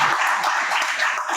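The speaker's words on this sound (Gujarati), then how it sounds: "તમારા બધા માટે એક વાર તાળી પાડો." Brief burst of dense, steady clapping from an audience at a Gujarati diet lecture camp in Morbi, filling the whole moment at an even level.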